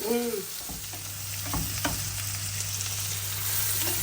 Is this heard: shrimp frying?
yes